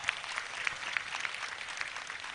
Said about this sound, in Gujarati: મારા હાવતને તાળીથી વધારો બાપ